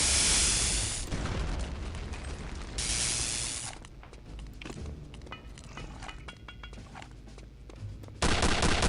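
Heavy booming rocket explosions and rumbling blasts fill Return to Castle Wolfenstein, with a bright crackling roar at the start and again near the end, and scattered debris impacts in between.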